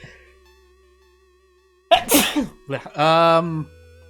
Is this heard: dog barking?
no